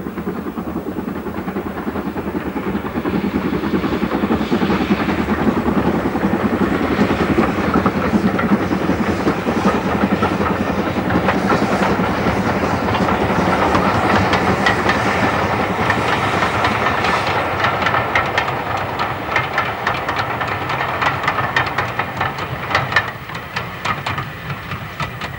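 GWR steam locomotive 6619 working through a steep valley on the North Yorkshire Moors Railway, a loud sustained rumble of the passing train with rhythmic clickety-clack of wheels over rail joints, swelling and then slowly fading.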